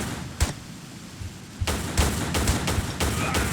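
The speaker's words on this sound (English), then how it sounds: "I want to try something with pistols" Pistol shots from the Tomb Raider video game: one isolated crack, a pause, then a rapid string of about seven sharp, fairly loud reports in quick succession.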